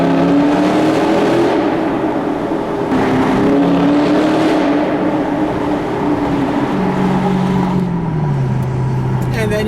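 A 2006 Chrysler 300C SRT8 V8 sedan engine revs up and settles again in a tunnel with a deep, resonant roar that echoes around it, rising pitch sweeps over a steady rumble.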